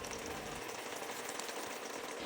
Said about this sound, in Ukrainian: Смажимо філе на олії.